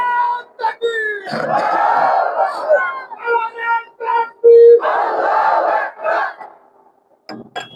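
A large crowd chants the takbir in unison, loud rising shouts of Allahu Akbar answering a leader's calls, with a voice speaking between the chants.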